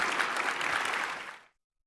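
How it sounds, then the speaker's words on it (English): Audience applause for a general at a Future of War conference, a dense burst of clapping that holds steady and then stops abruptly. "Round of applause for the general,"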